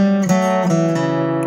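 A quick solo acoustic guitar phrase in bluegrass style rings out close and clear, several picked notes in fast succession with bright sustained strings.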